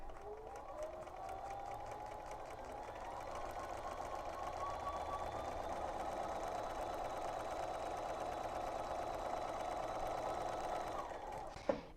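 A home sewing machine stitches steadily along a marked line on a quilt block for a table topper, a continuous close whirring hum with fine rapid needle ticks, running alone without talk until it stops at the end.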